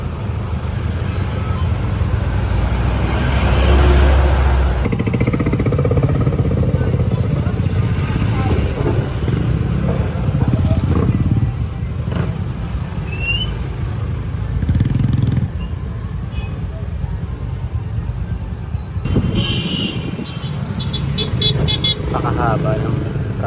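Busy road traffic in Malabon with cars and motorcycles idling and revving nearby, punctuated by short honks of car horns, while people talk over the steady engine rumble.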